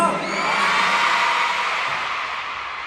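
A large crowd cheers and screams in a sustained roar that gradually fades, heard from within a big venue at a concert in Seoul.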